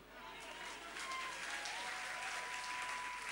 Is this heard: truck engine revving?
no